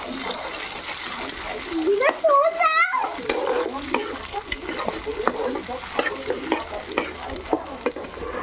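Onion and egg fry in a pan on a clay stove with a close, crackling sizzle and repeated scraping stirs. A voice speaks briefly near the start, and sharp spatula taps punctuate the frying.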